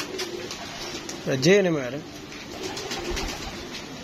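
Pigeons cooing close by in a home loft, one clear rolling coo rising and falling over about a second, with a voice talking faintly around it.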